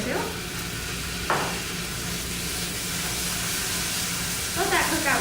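Italian sausage with about a teaspoon or two of garlic frying in a pan, a steady broadband sizzle with a few brief stirring scrapes and clatters, moderately loud and continuous.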